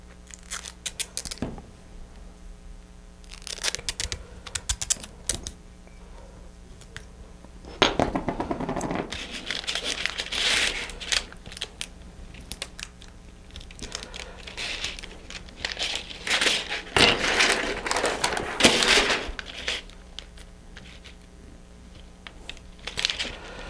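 Adhesive tape is pulled, crinkled and pressed onto a folded model rocket streamer, producing scattered close crackles, rustles and ripping bursts with quiet gaps between them.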